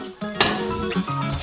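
A pot holding cut butter for a béchamel sauce is set onto a stove, giving a short metallic clunk and clink of cookware followed by faint scraping.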